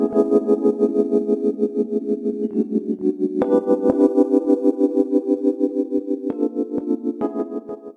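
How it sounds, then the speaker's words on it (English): A sustained chord pulses rhythmically, its volume ducking and swelling in a steady pumping pattern, with occasional chord changes and no voices. "something simple like a sidechain pumping effect"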